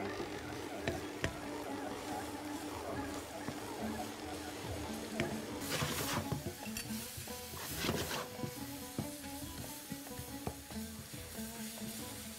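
Onion, garlic, leek and spices fry in a pan with a soft sizzle while a utensil stirs and scrapes in repeated clinks, with a louder burst of stirring partway through.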